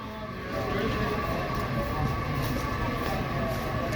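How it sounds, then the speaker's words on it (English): A Washington Metro Red Line train pulls into Dupont Circle station, a steady loud underground rumble swelling after the first half second and holding, with faint voices in the station. "I heard a train coming."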